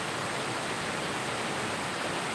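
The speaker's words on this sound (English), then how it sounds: "Such a beautiful little waterfall" A small waterfall gives off a steady, even hiss of falling water, constant and moderately quiet throughout, with no voices.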